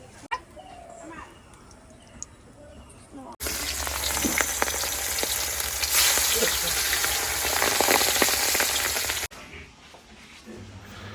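Turmeric-and-salt-rubbed fish frying in oil: a dense, loud crackling sizzle bursts in for about six seconds between quieter stretches of background room noise.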